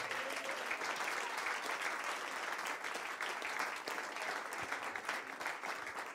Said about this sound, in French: Donnez-lui une acclamation.